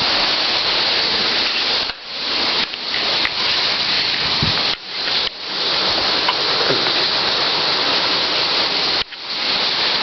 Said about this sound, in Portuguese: chuva de granizo, ó.